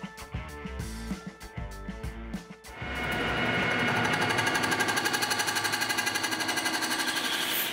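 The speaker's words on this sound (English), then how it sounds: "Back over to the manual lathe to part this off and clean up that backside face." Manual lathe parting off a delrin drive wheel: after a few intermittent mechanical knocks, a steady loud cutting drone with a fast, regular chatter settles in and holds to the end.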